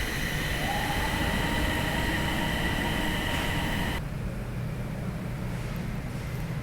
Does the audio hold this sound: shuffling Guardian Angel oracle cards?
no